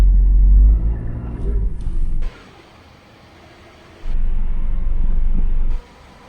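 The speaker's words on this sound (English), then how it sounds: "The engine sounds really good." A car engine rumbles loudly nearby, drops to a quiet lull for a couple of seconds, then surges back into a steady running roar before cutting off, with no one talking.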